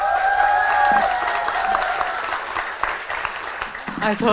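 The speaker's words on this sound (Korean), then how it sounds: "박수로 맞아주시기 바랍니다" Audience applause at the opening ceremony of a women's political academy in Seoul, a burst of clapping with a voice over it that thins out toward the end.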